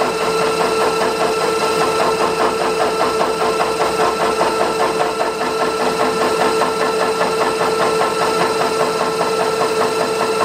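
A milling machine cuts a spline with an involute gear cutter, taking shallow passes. It makes a steady, loud mechanical whir with a rapid rhythmic chatter that runs unbroken throughout, with no talking.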